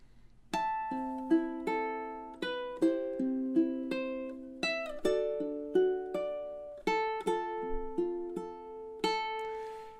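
Ukulele played fingerstyle on measures 9 to 12 of House of the Rising Sun, with clear plucked notes and arpeggiated chords ringing in a steady, gentle rhythm, close and solo with no talk.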